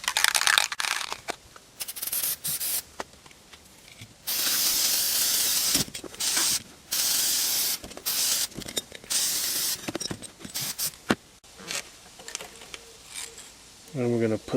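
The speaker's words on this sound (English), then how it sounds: "Put a little primer sealer on it." Aerosol primer sealer sprayed onto a 1961 Scout oil filter can in short and long bursts, loud close hissing blasts separated by pauses with small handling clicks.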